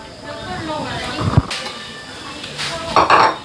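Home-grown eggplant being sliced with a knife in a kitchen, with a few sharp knocks and light clinks against the board while someone talks over it.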